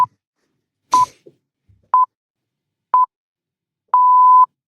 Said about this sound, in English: It's just 6 beep, pips.